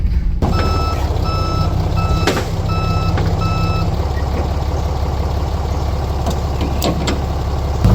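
A truck sounds loud, regular reversing beeps over its steady idling engine while backing up to hook up a flatbed trailer outdoors; the beeping stops partway and the engine rumble continues with a few clanks.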